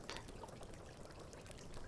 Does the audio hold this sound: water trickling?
yes